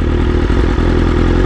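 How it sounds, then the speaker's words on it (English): A motorcycle engine runs very loud and close, a dense steady rumble with some mechanical clatter, heard alone over a brief stretch. "this bike is so loud that I can barely hear the music"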